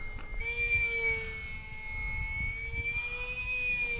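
A UMX Pitts RC model plane, a small electric aerobatic biplane, runs its motor at full throttle with a steady high-pitched whine over breezy outdoor noise, holding level and loud for several seconds.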